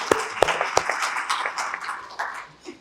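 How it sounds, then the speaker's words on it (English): Audience applause at a roundtable event on Pakistan and geoeconomics, a burst of scattered claps with a few sharp individual hits at the start, thinning and fading out over about three seconds. "Ladies and gentlemen, a huge round of applause for Dr."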